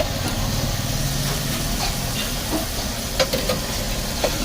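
Butter and garlic sizzle on a hot pan at a street-food night market stall making sizzler sauce, a loud steady crackle with scattered metallic clinks and scraping from stirring.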